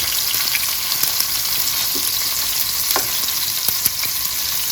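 Oxtail pieces browning in hot oil in a pan, a loud close dense sizzle and crackle with scattered spits and pops, no voices.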